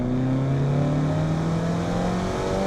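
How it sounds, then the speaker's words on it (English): A Mini Clubman carrying a swapped engine with M3 power revs out under acceleration, a loud, close, steady engine drone with rising tones that holds throughout without any talk. "even though it doesn't sound the greatest revving out, it's no V8, it's no inline 6, the power just carries and carries and carries"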